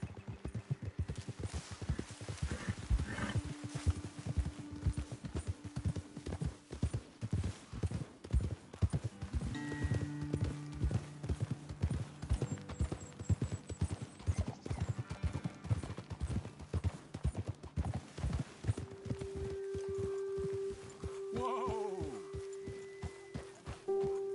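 Horse hooves clip-clop steadily and rhythmically throughout in the video game Red Dead Redemption 2, close and fairly loud, with a brief whinny near the end.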